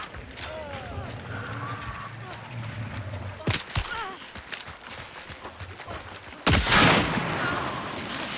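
Gunshots in the video game Hunt: Showdown, with a sharp report near 3.5 seconds and a louder blast around 6.5 seconds, amid a steady background of in-game ambience and movement.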